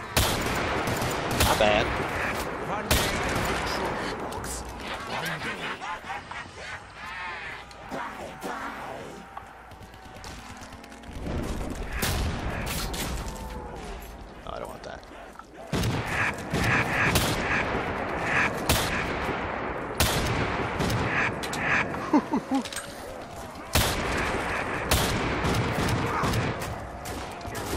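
Gunfire rattles in a Black Ops 3 zombies custom Halloween map, bursts of rapid shots and single cracks coming in uneven clusters with short pauses, while a player briefly speaks between volleys.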